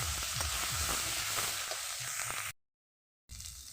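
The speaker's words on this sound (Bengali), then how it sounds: "ভালো করে নেড়ে চেড়ে একটু ভেজে ভেজে নেব" Vegetables and spice paste sizzle and fry in a pan while being stirred, a steady hiss with soft scraping strokes, cutting out briefly before the frying resumes.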